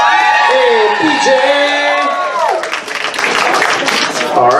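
At FurSquared 2020 Floor Wars, a crowd cheers and whoops for Tommy Fox, with loud shouts and calls at first, then a swelling wash of clapping and cheering that continues to the end.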